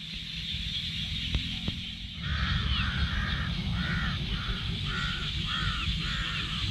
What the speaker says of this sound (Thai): อีกามาแล้วครับผม